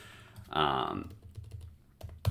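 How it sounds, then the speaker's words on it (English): Typing on a computer keyboard, scattered light key clicks around a short burst of nearby speech, ending with a sharper louder tap. "We can type in Poppy as well."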